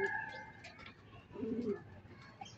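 Racing pigeons give a soft low coo midway through, faint against quiet background chatter and a few distant bird chirps.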